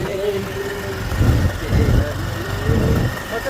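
Motorcycle carrying three riders on a rough off-road track, its engine droning steadily and close by, with low rumbling surges as it labours over the bumps.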